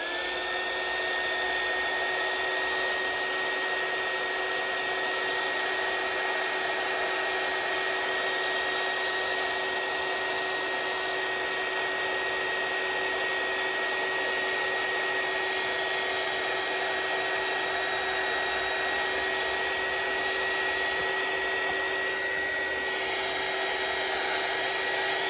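A hair dryer blows continuously to dry watercolor-painted craft tags, a loud, close, steady whooshing motor hum that holds without a break throughout.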